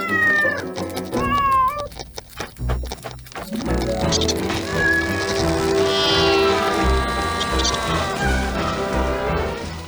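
A cartoon cat meows repeatedly, loud and close, in drawn-out, rising and falling cries, over busy animated music and sound effects.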